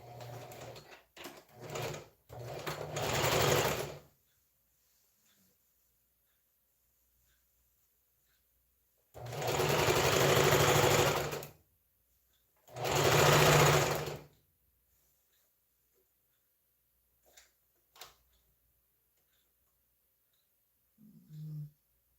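A struggling sewing machine stitches fabric for an African print shift dress in several loud, close bursts of whirring, separated by long silent pauses, with faint small clicks between runs.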